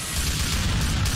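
Grenade blasts in GTA IV during a chaotic bank heist shootout with police, heard as a dense, continuous low rumble of booming explosions throughout, loud and close with no talking.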